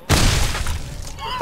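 A loud explosion from the video game Fallout: New Vegas blows apart a gecko's head, hitting suddenly and rumbling away over about a second before a small click.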